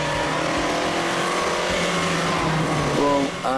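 A classic 1962cc performance coupe engine revs steadily at close range, with a rising, shifting pitch and a sharper rev burst near the end, and no talking.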